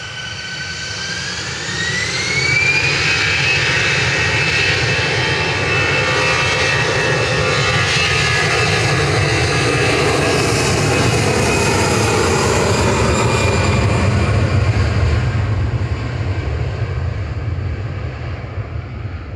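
An Airbus A380 at Manchester Airport roars loudly and steadily with a deep rumble, while a rising engine whine climbs early on and then holds. The sound is sustained, with no talk, and eases slightly near the end.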